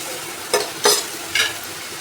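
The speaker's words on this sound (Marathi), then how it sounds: "आता इथं आपण ग्रेव्ही भाजत असताना याला कंटिन्यू हलवत राहायचं आहे" Makhani gravy frying in oil and butter while being stirred, a steady sizzle with three sharp scraping strokes of the spoon.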